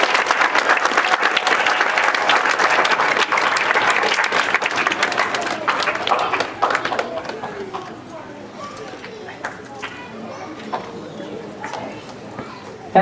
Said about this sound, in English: Please give a great round of applause.